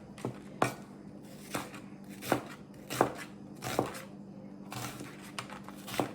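A knife roughly dicing a red onion on a board, with about nine distinct, moderately close chops spaced unevenly about half a second to a second apart and no talk over them.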